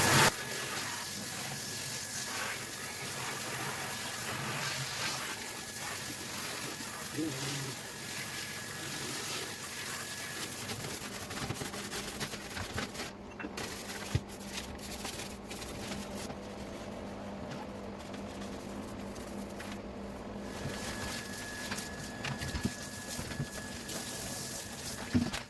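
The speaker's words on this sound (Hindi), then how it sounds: "अभी फ़िलहाल पानी से इसे मोटा मोटा क्लीन करते हैं।" Water rinsing parts of a split AC unit during a DIY wet service, a steady continuous splashing and flowing wash that runs unbroken throughout, close and moderately loud.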